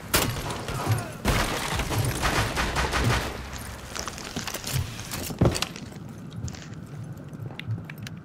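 Gunfire in a five-versus-five video game shooter, with bursts of sharp shots and clattering reports running through the scene. Players talk over the action.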